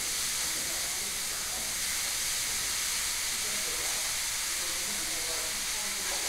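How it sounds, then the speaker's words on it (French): Onion and other vegetables frying in a pan give off a steady, dense sizzling hiss. The sound holds at an even level from start to finish, with no clear pauses. "Puis, je fais revenir tout ça pour bien faire sortir le parfum, les arômes, le goût."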